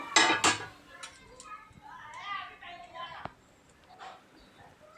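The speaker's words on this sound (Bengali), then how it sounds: "ভাতের ঢাকনাটা এবারে আমি খুলবো।" A lid comes off a pot of cooked jeera rice with a sharp metallic clatter right at the start, followed by someone talking.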